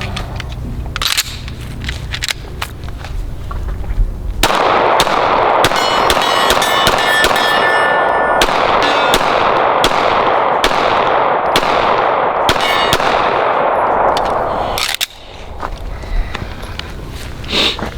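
Several Smith & Wesson or Sig Sauer pistol shots go off at irregular intervals, with loud sharp cracks over a constant roar of background noise.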